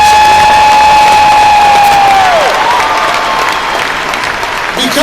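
Audience applause at a business convention fills the room with a loud, sustained clatter of clapping, with crowd noise and a voice talking over it, holding steady for the full stretch.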